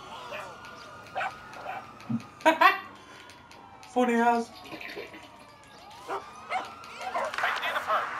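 A dog in Grand Theft Auto V gives two short, sharp barks close by, with someone talking over the game sounds before and after.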